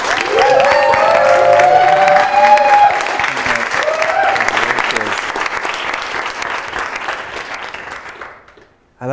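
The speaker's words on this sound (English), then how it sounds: "can we please give a huge round of applause to Chris" A large audience at an evening talk on habits bursts into sustained, dense applause that holds steady for several seconds before dying away, with voices murmuring underneath and a speaker starting at the very end.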